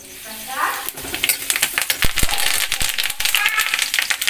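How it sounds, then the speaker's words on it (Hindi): Curry leaves dropped into the oil left over from roasting peanuts sizzle steadily at close range, with crackling pops and a few clinks of a stirring utensil against the pan. "इसी तेल में डालेंगे कढ़ी पत्ता"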